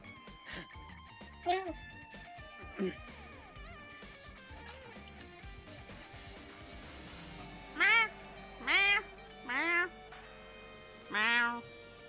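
A person imitates a cat, giving four drawn-out meows in a row toward the end, heard over Discord, after a stretch of background music with some talking.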